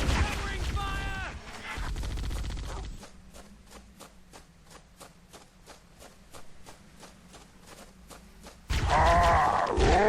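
Rapid, evenly spaced gunfire in the video game Halo: Combat Evolved, a steady string of about a dozen shots in the middle, with talk before and after.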